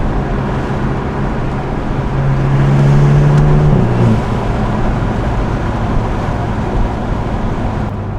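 A BMW 328i fitted with an axleback exhaust, resonator delete and secondary cat gives a loud, steady low exhaust drone that swells and rises in pitch, then drops back to a constant hum. No voices are heard.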